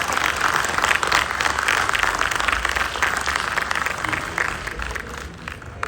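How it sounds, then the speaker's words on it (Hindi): Sustained applause from a live audience at an Indian consulate event in Jeddah, a dense steady wash of many hands clapping that continues throughout and fades slightly toward the end. "अपनी मौजूदगी दर्ज करा दें तालियां बजाकर एक बार"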